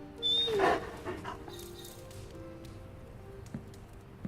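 A dog in the video game Midnight Suns whimpers and pants, with a high whine near the start followed by soft, fading breathy sounds; heard close and alone.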